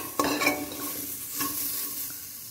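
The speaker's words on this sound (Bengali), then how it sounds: "এটা বেশি ভাজতে লাগবে না" Food frying in a pan with a steady sizzle, while a utensil stirs it in a few scraping strokes close by. There is no talk.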